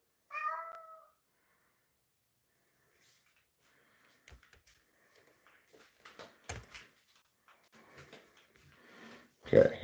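A cat gives one short meow near the start, followed by scattered soft clicks, thumps and shuffling noises in a quiet room, ending with a louder close bump.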